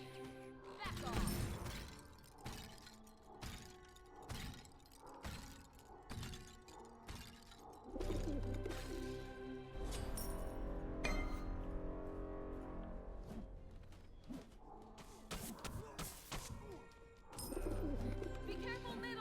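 Doves coo in a multiplayer video game match, with repeated soft coos mixed with sharp shattering effects, rhythmic game sounds and voices talking.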